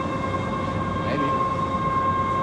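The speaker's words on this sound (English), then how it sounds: "You hear the grain coming through?" Grain flowing through the elevator leg of a feed mill, a steady, loud rushing rumble with a constant mechanical hum running underneath throughout.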